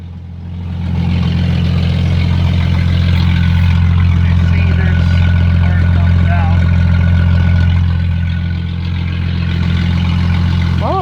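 A 1997 Jeep Cherokee idles nearby with a steady low, even drone that holds for about ten seconds after it starts, loud and constant, with faint background sounds over it.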